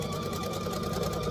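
A sewing machine runs steadily, stitching pieced quilt blocks with a continuous close whirring hum and needle rhythm throughout the short burst.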